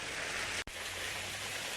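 Steady heavy rain falling outside, a continuous broadband wash of drops on surfaces, briefly dipping for an instant before carrying on unchanged.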